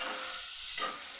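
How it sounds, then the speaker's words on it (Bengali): Cauliflower fries in a pan with a soft, even sizzling hiss, close but fairly quiet, with one brief flare of crackle near the end. "ফুলকপিটা হয়ে গেলে, ভাজা হয়ে গেলে এর মধ্যে জিরা ফোড়নটা দিয়ে দিব"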